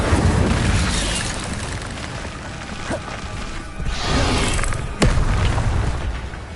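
Incendio fire spell cast in Hogwarts Legacy, booming whooshing bursts of flame over a dense rumbling roar, with a couple of sharp cracks, loud and close with no talking.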